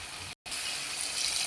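Water poured into a cooking pot of Tamil puli kuzhambu with field beans, a steady soft splashing gush with a very short break before it resumes.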